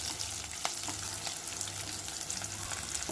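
Garlic frying in a pan, giving a steady, close sizzle with occasional crackles and light stirring.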